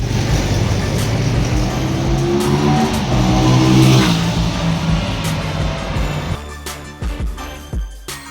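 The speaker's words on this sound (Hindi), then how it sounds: "इसका जो साउंड है ना, अप्रिला की जो ट्रेडमार्क साउंड है V4 वाली वैसी ही है।" Aprilia Tuono 457 motorcycle engine revving hard and close, a sustained loud rising roar that holds for several seconds, then drops into a few short sharp throttle blips as it settles.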